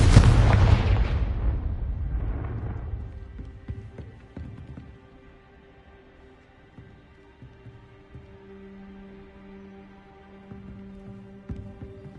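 A Confringo spell explosion from the PS5 game Hogwarts Legacy: a loud, deep boom that bursts at once, then rumbles and fades over several seconds into a low ambient hum, with a few faint later thuds.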